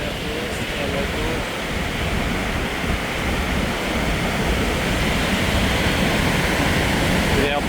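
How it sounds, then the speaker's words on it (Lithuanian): A waterfall along Norway's Trollstigen route in cold rain roars continuously, a dense, loud and unbroken rush of falling water heard close up throughout. "Krenta Krioklys į tokį perfektą."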